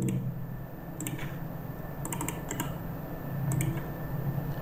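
Someone types on a computer keyboard, probably while entering bank account details into a Google account. Scattered clusters of light, close key clicks sound over a steady low hum, with short pauses between bursts.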